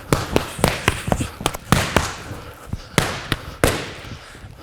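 Punches snap into boxing focus mitts during a gym mitt-work session with body shots, a close run of about a dozen sharp slaps in quick, uneven combinations, with no talking over them.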